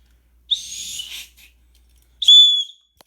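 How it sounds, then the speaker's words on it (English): A handheld whistle from a bug-out survival kit gives two short, shrill blasts, the first wavering for under a second and the second sharper and louder, with quiet between and no one talking. "sorry for the annoying whistle blow"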